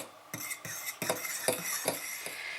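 Powdered cream being stirred into cooled butter syrup for a homemade milk-chocolate spread, a spoon scraping and clinking against the bowl in a steady rhythm of roughly two strokes per second, close and fairly quiet.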